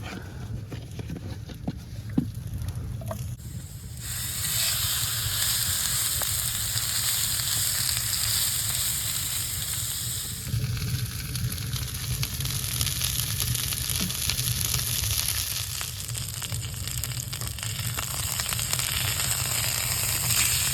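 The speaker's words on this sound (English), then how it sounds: "I'm gonna throw some of the taters on there." Potatoes frying in a pan on a hot tent stove during cold-weather winter camping, a steady close sizzle that swells after a few seconds and carries on continuously, with faint clinks early on.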